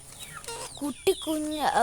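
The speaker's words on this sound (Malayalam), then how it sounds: "ഞങ്ങളുടെ വീട്ടിൽ പൂവൻകോഴിയുണ്ട്." A rooster at a house gives short, close clucks and calls in quick bursts, with a person talking alongside.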